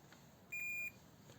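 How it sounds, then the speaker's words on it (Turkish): A single short electronic multimeter continuity beep, thin and high-pitched, sounds for about a third of a second against a quiet background hum. "bip sesini duyuyorum. Yani ölçü aleti çalışıyor."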